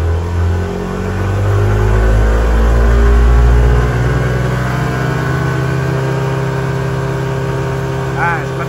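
A motorcycle engine on a dynamometer is revved up to higher RPM with the throttle held steady, a loud sustained drone that swells, holds, then eases back to a lower hum, with a brief voice near the end.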